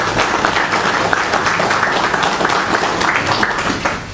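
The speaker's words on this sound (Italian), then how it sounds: "Andrea Massaro, consentite un applauso perché lui ha fatto la riscoperta." Sustained clapping from a symposium audience, dense and fairly loud, tapering off slightly at the very end.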